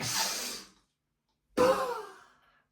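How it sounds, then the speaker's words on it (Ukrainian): During a breathing exercise a long audible exhale trails off into a second of silence, then a sharp, forceful inhale follows and fades, close to the microphone with no talking. "Видих. Вдих різкий."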